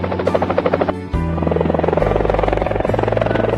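A cartoon firefighting aircraft flies with a steady, rapid rotor-like chop that buzzes loudly and evenly throughout, with no voices over it.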